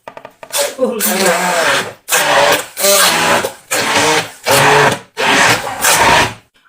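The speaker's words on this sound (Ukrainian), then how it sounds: "я вливаю в творог і збиваю блендером" A hand blender whips hot sugar syrup and vanilla sugar into cottage cheese, running in five or six loud, rough motor bursts separated by short pauses. A voice may be faintly present.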